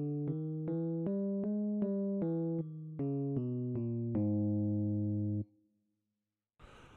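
A harmonic minor scale with the raised seventh degree played note by note on a synthesized keyboard tone, climbing then descending in even steps before a final held note, clean and alone, followed by a brief noise burst.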